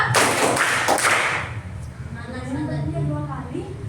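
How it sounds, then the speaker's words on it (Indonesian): Primary-school pupils in a classroom clap together in a taught rhythm, a burst of sharp, loud claps in the first seconds, followed by a voice speaking. "Tepuk satu, tepuk dua"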